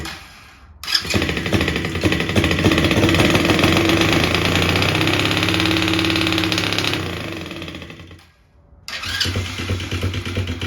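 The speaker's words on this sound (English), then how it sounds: "So I finally got this idling" A Coolster 125cc engine idles steadily and loudly up close, a continuous mechanical drone that briefly cuts out and drops away near the end before restarting.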